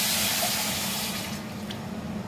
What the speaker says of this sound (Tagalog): Kalahating bowl ng tubig.